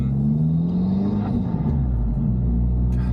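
An Abarth 595 Competizione's engine rumbles low and steady with a deep exhaust note, heard up close from inside, the pitch easing slightly as it cruises.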